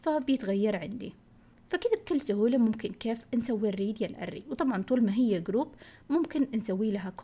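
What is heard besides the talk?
No everyday noise stands out behind the speech.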